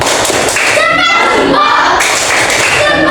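A group of children claps a rhythmic thumb-clap chant in a classroom, the sharp claps landing in quick bursts mixed with children's voices chanting.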